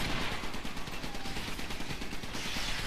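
Rapid automatic gunfire aimed at a ship in the mech tower-defense video game Iron Brigade, a dense, continuous crackling barrage for about three seconds with no talk over it.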